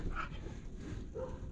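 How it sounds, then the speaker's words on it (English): A dog behind a fence gives a couple of short yips and barks, moderately close, over a steady outdoor background hum. "we got a nice dog that won't let me over the fence"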